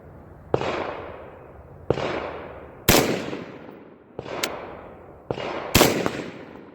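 Five sharp gunshots from a Marcolmar CETME L rifle fired outdoors at a tree target, spaced about a second apart, each loud crack followed by a long echoing decay, with no talking.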